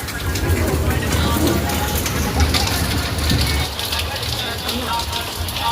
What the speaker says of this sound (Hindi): यार इतनी जोर बारिश हो रही है, हमारा तो पूरा कमरा भीग गया होगा